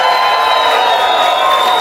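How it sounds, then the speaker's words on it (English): A large conference crowd at a 2017 leadership summit roars and cheers in a standing ovation as football coach Lou Holtz leaves the stage, a dense, steady wash of loud cheering and whoops with no talk. "Coach Lou Holtz just walked off the stage to a raucous standing ovation"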